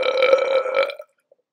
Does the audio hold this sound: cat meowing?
no